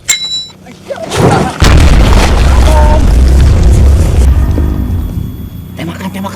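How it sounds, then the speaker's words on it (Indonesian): In a Sundanese comedy parody of a Rambo film, a loud bomb blast erupts after an opening shout, booming heavily and then rumbling on for several seconds before fading, with voices shouting around it. "Sok ayeuna bom."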